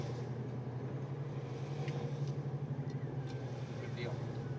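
A 1970 Chevrolet Chevelle drives along, its engine giving a steady, low rumbling hum from inside the car during a test drive, with faint voices underneath.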